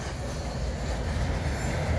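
A westbound manifest freight train passes in Fremont, Nebraska, a steady, loud, close rumble of rolling railcars with dense low-frequency roar and no breaks.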